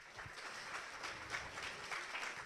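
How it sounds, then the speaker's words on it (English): A crowd at a hackathon closing ceremony applauds steadily, clapping heard from a short distance, with no pause throughout. "you can do a round of applause for that too"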